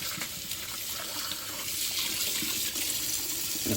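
Water runs steadily from a tap as a hand rinses part of an IMUSA aluminum 3-cup stovetop espresso maker, with a continuous splashing flow and no talking.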